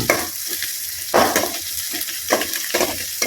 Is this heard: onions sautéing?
yes